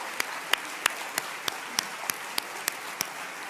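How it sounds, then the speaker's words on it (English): Audience at an arts leadership awards event applauds the awardees: a soft, sparse patter of clapping heard from a distance, with a few sharper individual claps rising at a regular pace. "Let's give them all another great big round of applause."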